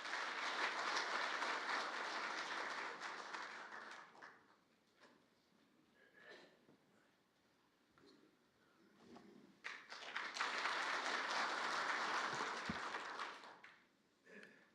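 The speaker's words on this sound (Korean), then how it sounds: "큰 박수로" Applause from an audience at a Korean policy forum welcomes a speaker: a loud burst of clapping that fades to a lull with scattered sounds, then swells again into a second strong round before dying away.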